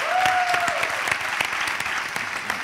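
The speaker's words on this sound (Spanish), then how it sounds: "un aplauso a Andrés Llena, por favor." Steady, dense audience applause fills the whole stretch at an event interview, with a brief high whistle-like tone early on.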